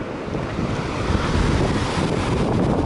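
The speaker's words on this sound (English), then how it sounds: "Beautiful blue Pacific Ocean. White sand beaches." Surf washes steadily onto a white-sand Pacific Ocean beach on an empty coast, a continuous broad rush mixed with heavy wind buffeting the microphone, with no voices.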